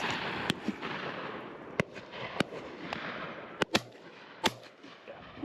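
Shotgun shots at pheasants on a driven shoot, several sharp reports at irregular intervals, some close and some more distant, over a steady background of outdoor noise.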